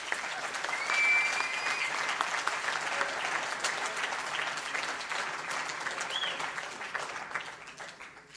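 A large festival crowd at an open-air rock show applauds steadily for about eight seconds, a dense, even wash of clapping and cheering that holds at a constant level, with faint whistles rising above it.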